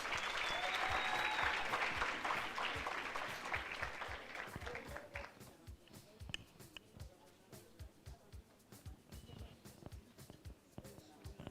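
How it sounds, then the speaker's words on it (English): Applause from an audience at a ceremony honouring top matric achievers, full at first and then thinning to scattered claps. "Round of applause for them, please."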